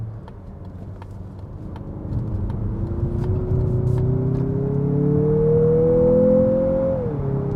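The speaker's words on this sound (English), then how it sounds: "Now let's throw it in a corner. It rev matches too." A 2023 Mazda CX-50 SUV cornering, its engine note climbing steadily in pitch under a constant road and tyre roar, then dipping sharply as it rev-matches near the end. Heard from inside the cabin, with no talking.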